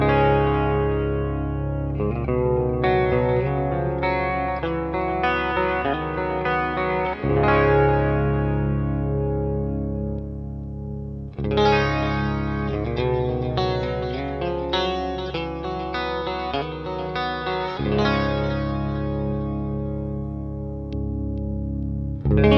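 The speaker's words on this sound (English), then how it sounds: "I'm gonna demo the positions with like a clean sound and a little bit of a dirtier sound" An electric guitar played through a Solar A2.6 pedal, switching between clean and dirtier settings, rings out in sustained chords and picked phrases with effects-laden tone, loud and close, in several passages separated by brief pauses, with no talking.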